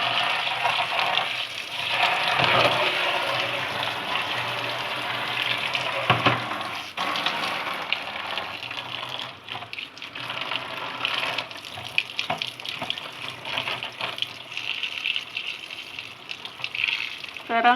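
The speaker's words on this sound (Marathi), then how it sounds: "चांगली स्वच्छ 2-3 पाण्याने धुवून घ्यायची सुकट." Sukat, small dried fish, gets rinsed two or three times in clean water to remove sand, with continuous running and splashing water, swishing and occasional clatter of a container, close and steady.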